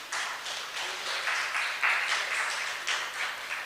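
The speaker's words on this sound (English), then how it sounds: "Let's clap for ourselves." An audience at a Kenyan national research festival side event clapping for themselves, steady dense applause from a crowd of many hands, moderately loud and continuous for several seconds.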